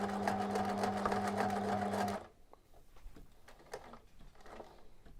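A sewing machine stitches through linen and denim while a cutlery roll is sewn. Its loud, rapid, even chatter runs for about two seconds, then stops abruptly, leaving faint handling clicks and rustles.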